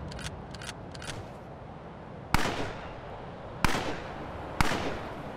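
Three sharp, loud gunshots ring out at spaced intervals in the Western fantasy video game Wild West and Wizards, each with a short decaying tail, following a few faint ticking clicks.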